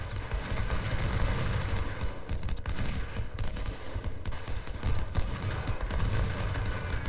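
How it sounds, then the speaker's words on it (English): Dense, continuous crackle of musket volleys from skirmishers in the Civil War strategy game Ultimate General: Civil War, heavy and unbroken throughout with rolling low rumble and no talk. "But now we have both of them firing at him."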